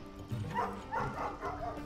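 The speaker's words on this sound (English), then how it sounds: "Oh, jeez, that's a dog." A dog barks and yips in short repeated bursts at a moderate distance in the Night in the Woods video game, with a few soft whimpering notes between the barks.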